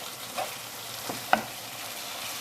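A soft, steady sizzle comes from Mexican chilli con carne in a pan as spices are stirred through it, with a few faint scraping strokes and one sharper clink over the quiet frying.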